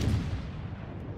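A low, rumbling boom from the main guns of the French cruiser Émile Bertin in World of Warships, one heavy salvo tailing off into a distant roll.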